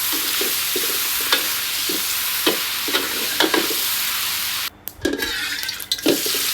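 Seasoned squid tentacles frying in oil in a pan, a steady close sizzle broken by scraping stirs and a few sharp clatters, with a brief quiet gap and then louder clattering toward the end.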